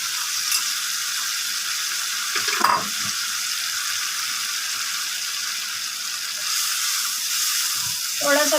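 Shahi chicken alu gosht sizzles steadily in a cooking pot, a continuous loud fry hiss with a few brief clinks and stirring knocks.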